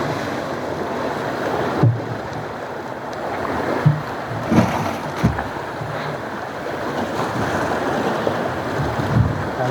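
Strong wind roars over open sea, buffeting the microphone with gusts, while waves wash and a boat bumps now and then.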